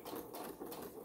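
A sewing machine back stitching a fabric mask, a fast steady mechanical whir with slight rhythmic pulsing, faint and close, no talking.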